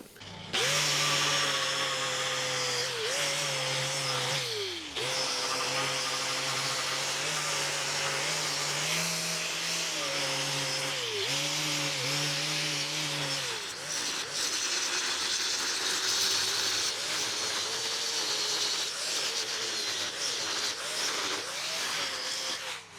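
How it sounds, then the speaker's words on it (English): A power tool works a crack in thick steel on a drill rig, wire-wheeling and gouging it out: a loud, continuous motor whine that dips in pitch under load, running for over twenty seconds with no talking. "So I'm going to hit it with a wire wheel and start gouging it out."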